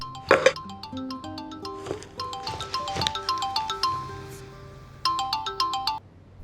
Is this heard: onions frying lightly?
no